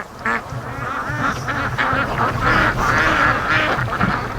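Ducks quack in a busy, overlapping chorus, close by and fairly loud, with a few goose-like honks mixed in around a pond with bulrushes.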